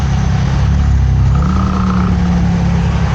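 Road traffic heard while riding a motorcycle: a steady, loud engine drone with a low rumble throughout, and a passing vehicle's tone rising briefly midway.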